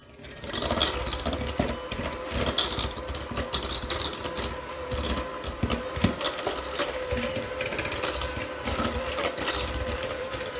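Stand mixer beating snickerdoodle cookie dough with butter, a steady whirring motor hum with faint rattling that runs loud and unbroken throughout, with no talk.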